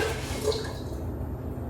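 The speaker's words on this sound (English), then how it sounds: "And more water for this sauce." Water poured into a pot of pasta sauce, a short splashing, gurgling pour that is strongest at first and then tapers off into a quieter trickle.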